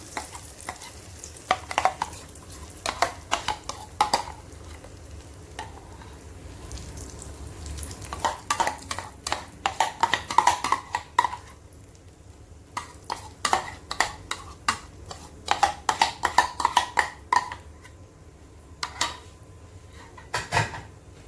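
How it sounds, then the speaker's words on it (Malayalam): A spoon scrapes and stirs mashed banana and grated carrot in hot ghee for halwa, in bursts of quick, close scraping strokes with a soft sizzle underneath, separated by short pauses. "പഴം ചേർത്ത് ഒന്ന് ഇളക്കുക."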